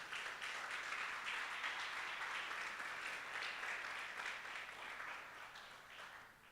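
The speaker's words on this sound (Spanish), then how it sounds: "Dale un aplauso al Señor en esta tarde." Sustained applause from a large church congregation, steady and full, slowly tapering off toward the end.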